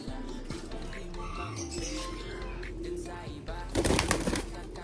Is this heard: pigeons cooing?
yes